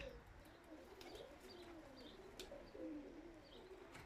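Pigeons in a Polish loft coo in low, repeated rolling phrases at close range, with faint chirps and light rustling behind.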